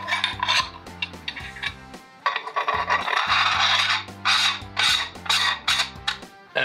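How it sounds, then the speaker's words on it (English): Rough anodized threads of a camera adapter ring on a cooled astronomy camera being screwed together, a loud grinding, rasping scrape in uneven bursts with brief pauses between turns, close up and without talk. "That sounds really rough. It doesn't sound like the threads were very clean when they anodized this"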